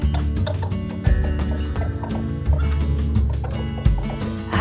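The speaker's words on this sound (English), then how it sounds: "Up to the magic hen Jack crept." A cartoon magic hen clucks in a fairytale animation, with repeated gobbling, clucking calls over a busy musical backing at fairly loud level and no speech.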